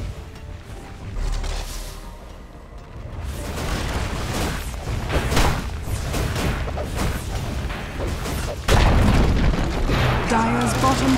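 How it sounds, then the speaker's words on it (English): Dota 2 tower being destroyed: deep booming crashes and crumbling impacts, one heavy hit after another, with a sharp loud burst near the end and in-game voices heard among the noise. "Dire's bottom tower has fallen."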